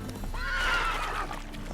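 Roach, a horse in The Witcher 3, gives one loud, near whinny lasting about a second, rising and falling in pitch over a faint game background.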